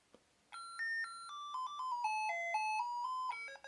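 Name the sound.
kids alarm clock ringtone melody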